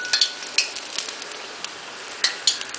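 Wontons frying in a pan over medium-low heat, a soft continuous sizzle broken by a few sharp spatters and light utensil clicks, close and with no one talking.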